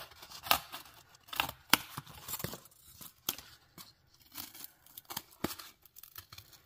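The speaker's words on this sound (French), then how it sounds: "On va déjà couper ça." Scissors cutting through cardboard to make wheels for an advent-calendar train craft, with a series of sharp, irregular snips and crunching cuts spaced across the stretch, close and fairly quiet, no talking.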